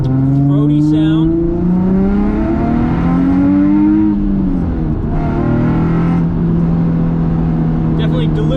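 A Nissan 350Z's VQ engine revs through a throaty exhaust, its low, droning note climbing and falling several times and staying loud and close throughout.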